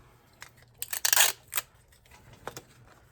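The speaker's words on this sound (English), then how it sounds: "Just use some clear tape and go along the side like this." Clear adhesive tape being pulled and pressed along the side of a paper folder, giving a cluster of crackling, peeling bursts and then a couple of lighter rips, close and with no voices.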